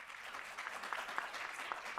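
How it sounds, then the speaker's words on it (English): An audience gives panelists a final round of applause at a women-in-leadership session, a steady spread of many hands clapping at a moderate distance, fairly soft and unbroken for the whole stretch. "Please join me in giving our panelists a final round of applause."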